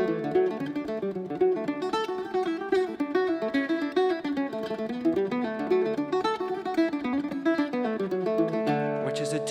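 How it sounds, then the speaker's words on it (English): Greek bouzouki playing an Irish tune, bright plucked strings with a continuous melodic line over ringing harmonics, steady and close throughout with no voices. "if you're wondering what a bouzouki is, it's a Greek instrument that became foundational to Irish music"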